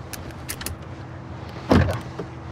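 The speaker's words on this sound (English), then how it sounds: "Power door locks, standard" Car power door locks actuating inside a vehicle, a single loud mechanical clunk near the middle against quiet cabin background with a few small clicks and rustles around it.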